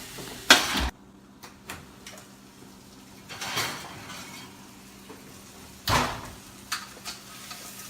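Steak searing in a hot pan after being flipped, a low steady sizzle with a few sharp bursts of spattering and clanking near the start and again toward the end.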